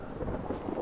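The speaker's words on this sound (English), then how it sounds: "Huckabee gets struck by lightning." In Brothers: A Tale of Two Sons, thunder rumbles low and heavy beneath steady rain in a stormy scene, a short, dense, continuous roar with no voices.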